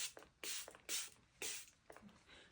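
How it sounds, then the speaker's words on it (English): Hypochlorous spray is misted across a face in several quick, short hissing pumps. The spritzes are close and soft, with no talking. "Quick spray around and you'll notice that I've sprayed my whole face"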